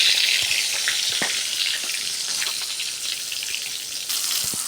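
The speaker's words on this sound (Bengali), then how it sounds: "এবার কড়াইয়ে তেল দিয়ে দিয়েছি, ছেড়ে দিলাম, ভেজে নেব বেগুনগুলো।" Eggplant slices, rubbed with salt and turmeric, frying in hot oil in a wok, giving a steady close sizzle with scattered crackles and pops that holds through the whole stretch.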